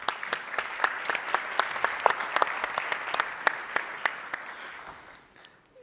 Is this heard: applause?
yes